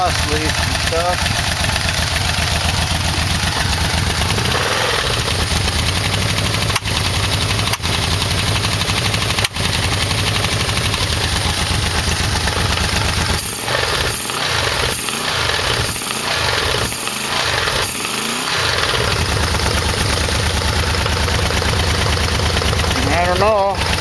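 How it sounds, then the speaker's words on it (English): A Yamaha Vmax 4 engine idles with exhaust leaks, a steady close rumble with rapid ticking and popping pulses through the middle stretch, running without a break for over twenty seconds. "Still hear some exhaust leaks and stuff."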